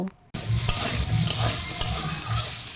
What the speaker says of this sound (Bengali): ভালো করে নাড়াচাড়া করে একটু এগুলো ভাজা ভাজা করে নেব